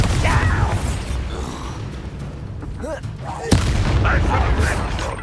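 A Bombarda spell in the Hogwarts Legacy video game fires with a single sharp blast midway through, amid continuous game combat noise and character voices.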